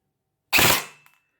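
An airsoft gun fires over a chronograph in a single sharp, close burst lasting a fraction of a second, followed by a short fading tail and faint clicks in otherwise silent surroundings.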